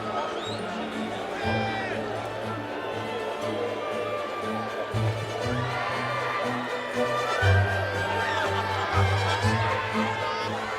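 An American crowd cheering Khrushchev, heard in old archival footage as a lively mix of cheers, shouts and babble that swells in waves, with a voice talking over it.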